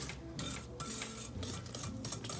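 Christmas cookie batter mixed by hand with a whisk in a bowl, a steady scraping and stirring clatter of metal against the bowl that runs continuously at close range, with no voices.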